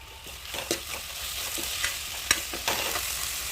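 Ivy gourd sautéing with rock salt and turmeric powder, a soft steady sizzle broken by a few spatula scrapes and taps against the pan, heard close.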